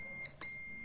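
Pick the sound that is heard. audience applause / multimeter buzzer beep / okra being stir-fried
multimeter buzzer beep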